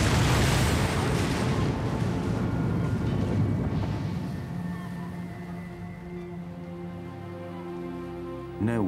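A reenacted explosion of the Swissair Flight 111 airliner off Peggy's Cove: a loud, deep blast that rolls into a long, fading rumble, with a faint sustained tone emerging as it dies away.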